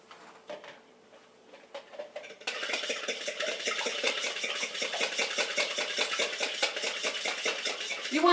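A utensil stirs beaten eggs into cheese grits in a bowl, producing steady rhythmic scraping and clinking against the bowl that starts softly, then becomes louder and continuous, close up.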